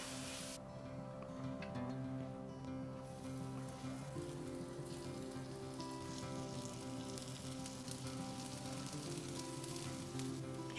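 Pizza grilled cheese sandwiches fry in butter on a hot, smoking griddle, giving a steady, close, continuous sizzle that stays even throughout.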